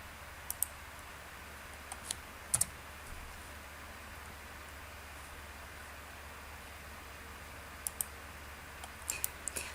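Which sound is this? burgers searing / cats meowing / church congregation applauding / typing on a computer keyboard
typing on a computer keyboard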